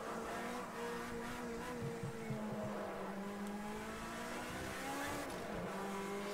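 Race cars in a racing video game, including Camaros, a Ferrari and Mercedes, give a continuous engine whine that shifts in pitch with gear changes and brief tyre squeals, no talk.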